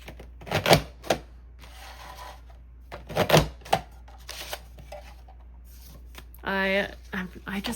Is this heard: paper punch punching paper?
yes